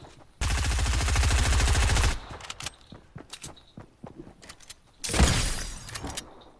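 Rapid automatic gunfire from a gun in Fortnite, a loud close burst of about two seconds, then scattered shots and footsteps, then a second shorter burst near the end.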